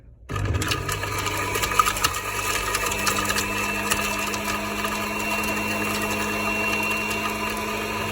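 Electric juicer motor running while juicing carrots, a steady buzzing whir that starts abruptly and holds at a constant loud level with slight rattling, close up and alone.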